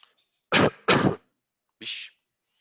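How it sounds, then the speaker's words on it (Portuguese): Two sharp throat-clearing coughs close together, followed a moment later by a softer third clear of the throat, up close and alone in a quiet room during an online physics class. "Deixa eu fechar o microfone para tossir, né?"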